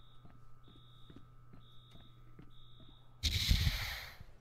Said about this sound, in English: don't go anywhere near any sensors or else this is gonna beep at you and get angry